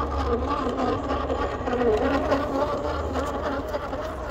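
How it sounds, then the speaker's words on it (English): Hobbywing Fusion Pro 2300kv brushless motor in an RC crawler on 3S, at feathered low throttle while crawling slowly: a steady, even, insect-like electric whine and buzz that holds close and constant throughout. "I'm just feathering the throttle and it's just slowly just crawling along, nice and controlled"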